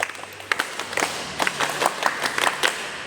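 A classroom group performs a Scout-style rhythmic clap, tepuk pramuka, with sharp claps in a patterned beat, fairly close and a little uneven, with no talking over it.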